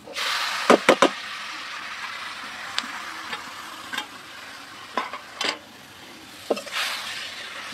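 Uppittu khara with greens is stirred in a hot pan, giving several loud scraping swishes and knocks of the spoon over a soft steady sizzle, spaced irregularly with quieter moments between.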